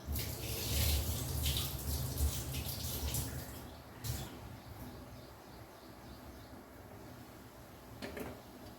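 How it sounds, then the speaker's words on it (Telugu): Water splashes and pours into a pot in a few bursts, loudest at the start, followed by quieter trickles and a brief splash near the end. "ఈ బియ్యంలో నీళ్ళు ఒప్పేసి అందులో వేసేస్తున్నాం"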